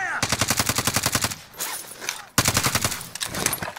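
Rapid automatic gunfire in Call of Duty Warzone Resurgence, two loud bursts of evenly spaced rounds separated by a brief lull, close and dominant over the game's background noise.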